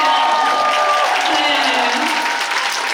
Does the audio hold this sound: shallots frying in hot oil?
no